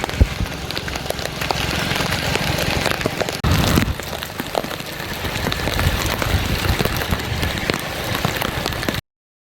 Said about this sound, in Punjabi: ਪੂਰਾ ਪਾਣੀ ਪੂਰਾ ਮੀਂਹ ਦੇ ਨਾਲ ਲੱਗੇ ਹੋਏ ਅਸੀਂ